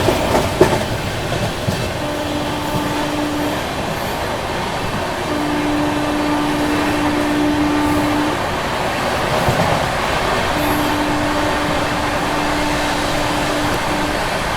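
The CR Rajdhani Express rushes through Morena railway station at high speed, a loud continuous rumble and rapid clatter of wheels over rail joints, with sustained tonal hum from the moving train and no talking.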